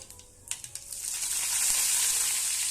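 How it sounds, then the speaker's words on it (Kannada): Mustard seeds, cumin and curry leaves hit hot oil: a few sharp pops and clicks come first, then a broad sizzle swells and holds loud and close; no one speaks. "ಸ್ವಲ್ಪ ಜೀರಿಗೆ, ಸಾಸಿವೆ ಚಟಪಟ ಆದಮೇಲೆ ಸ್ವಲ್ಪ ಹಿಂಗೆ ಹಾಕಿ, ಸ್ವಲ್ಪ ಕರಿಬೇವು ಸೊಪ್ಪು"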